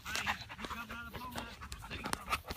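Dog panting in a yard, rapid rhythmic breaths throughout with people talking over it and background noise in an outdoor neighborhood setting.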